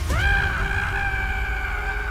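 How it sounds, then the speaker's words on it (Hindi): A spine-chilling scream from a young man named Soham in a village, a single sustained piercing shriek that rises sharply and holds steady over a low rumbling bed, loud and close. "गांव वालों ने सोहम की रूह कपकपा देने वाली चीख सुनी"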